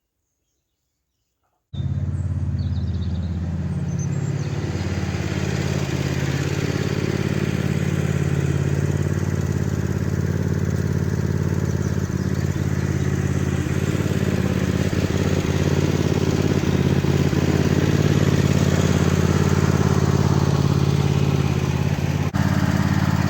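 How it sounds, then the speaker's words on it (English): A red tractor engine idles steadily after starting up, a loud, continuous low throb with mechanical clatter that holds constant for over twenty seconds with no talking. "just pulled a red tractor out just to give it a warm through."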